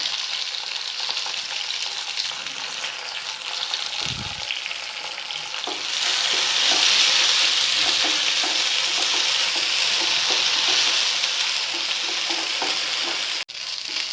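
Mint leaves and ginger sizzle and crackle in a hot pan for nonna kanji, the frying steady and close, growing louder partway through with occasional stirring scrapes, no voices.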